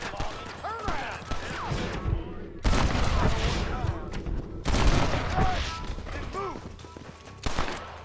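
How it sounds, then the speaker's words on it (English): Gunfire in the Western video game Red Dead Redemption, with loud bursts of shots and crashing impacts in two heavy stretches, mixed with game sound and voices talking throughout. "Shooting."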